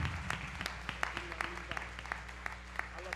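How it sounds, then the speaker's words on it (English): Scattered clapping from a church congregation, faint and somewhat distant, with irregular claps spread across a quiet room. "Please give them a round of applause"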